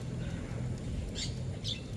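A white-breasted waterhen (dahuk) and other birds call at feeding time, giving a few brief, fairly faint squawks and chirps over a steady background hum.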